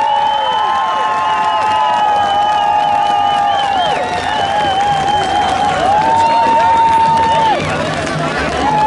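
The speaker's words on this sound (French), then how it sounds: "Je vous demande une grosse main d'applaudissements pour tous les organisateurs de l'événement." A crowd at a live event applauds and cheers for the organizers, a loud, continuous wash of clapping, whoops and shouting held steady throughout, with bright whistle-like tones riding over the noise.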